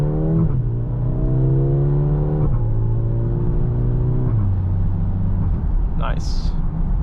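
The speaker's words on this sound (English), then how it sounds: "exhaust sound is decent for a 4-cylinder" The four-cylinder exhaust of a 2025 Mercedes-AMG GLB 35 drones and rises as it accelerates through gears, pitch climbing then dropping at each shift, heard from inside, with a brief chirp near the end.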